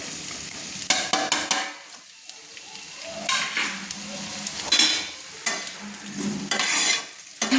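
Fried potatoes get stirred into chira pulao in a sizzling pan, with repeated scraping, clinking strokes of a spoon against the metal over a steady frying hiss, close and fairly loud.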